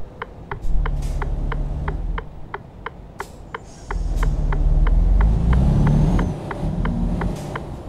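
A Scania truck in Euro Truck Simulator 2 rumbles past with a deep engine drone that swells and fades, accompanied by a steady, evenly spaced ticking, likely an indicator, running throughout.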